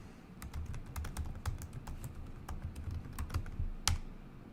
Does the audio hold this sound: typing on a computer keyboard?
yes